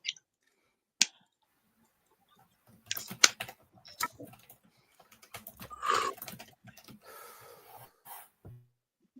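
Bursts of typing on a computer keyboard, scattered clicks and short runs of keystrokes with gaps between, fairly quiet and close, with no one talking.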